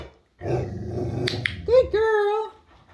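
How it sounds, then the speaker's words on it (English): A people-aggressive dog during a training session gives a low rumbling growl followed by a couple of sharp, whining barks, close and loud, with no talk over it. "when she's barking the head up and all that, she's emotionally gone"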